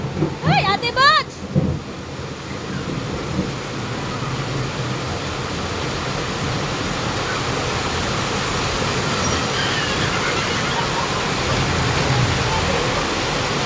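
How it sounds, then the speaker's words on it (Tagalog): Heavy rain pours down in a steady, dense hiss that fills the scene. A voice and a brief bird-like sound are audible at the start, then the rain continues unbroken and loud. "Grabe guys, ang lakas ng ulan"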